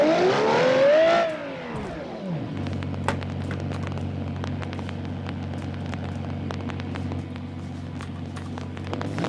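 A car engine in the BeamNG video game revs loudly, climbing in a rising whine before dropping away, then settling into a steady droning rumble with scattered faint ticks.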